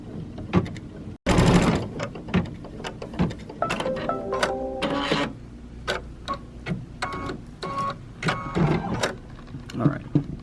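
A sewing machine stitches appliqué fabric onto a kids' T-shirt, running in bursts with a quick mechanical clatter and ticking, plus rustling handling sounds and a brief pause between stretches.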